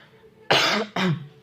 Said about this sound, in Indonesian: Maaf ya, saya lagi batuk jadi sambil menerangkan aja.